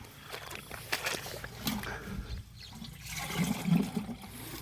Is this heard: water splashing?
yes